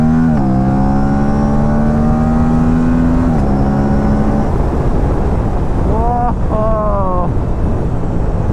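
A Aprilia RS 457 sport motorcycle engine fitted with a DNA air filter drones steadily while riding, with wind rushing past; the pitch drops at a gear change, then climbs again in quick revs.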